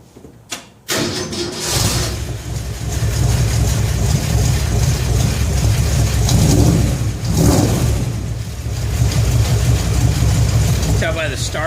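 A 1966 Ford F100 shop truck engine cranks briefly on the starter, catches and settles into a loud steady idle with slight swells in revs, recorded close up.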